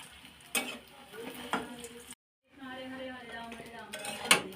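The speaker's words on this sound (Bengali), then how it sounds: "এখন জাস্ট শুধু ভেজে নিচ্ছি।" Dhoka, a Bengali lentil cake, fries in hot oil in a pan with soft, continuous sizzling, punctuated by a few sharp clinks of a utensil against the pan, with a brief silent gap midway.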